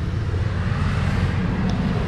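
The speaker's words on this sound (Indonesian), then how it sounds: "Maaf ya suaranya kalau nggak kedengeran banget karena pinggir jalan." Roadside traffic produces a steady low rumble of passing vehicles, close and continuous for a couple of seconds with no voices.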